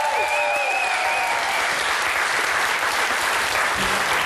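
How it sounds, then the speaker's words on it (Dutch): Steady, dense audience applause fills the hall after a televised music performance, loud and continuous from start to finish with a faint tonal trace early on. "Mocht ze nog één applaus voor de muzikanten."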